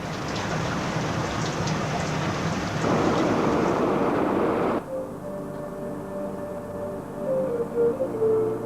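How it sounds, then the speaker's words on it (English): Heavy rain pours steadily through a January night, a dense continuous hiss that swells louder midway, then gives way to a quieter wash with faint tonal sounds in the background. "Rain fell heavily throughout that January night."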